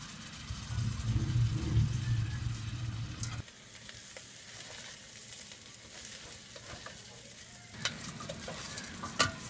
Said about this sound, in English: Saute your onion and rice in your hot oil for about 8 minutes